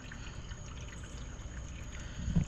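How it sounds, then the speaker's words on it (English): Water pouring through a hose into a 14-gallon water tank mounted under a trailer, a quiet, steady trickle and gurgle heard close up, swelling slightly toward the end. "You can hear water's going in there."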